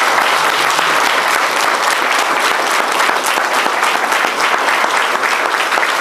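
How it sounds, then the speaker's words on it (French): Applause at a Bastille Day medal ceremony in Bessan, a dense, even clapping from a crowd that stays loud for the whole stretch with no talk over it. "Je crois que nous pouvons l'applaudir."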